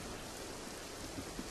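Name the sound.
rain sound effect in radio drama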